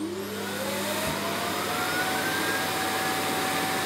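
A Roborock robot vacuum empties itself at its self-emptying station with a loud, steady whoosh that holds for the whole stretch and carries a slowly rising whine, close and without talk.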